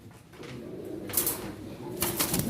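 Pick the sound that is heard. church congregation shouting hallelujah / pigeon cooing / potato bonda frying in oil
pigeon cooing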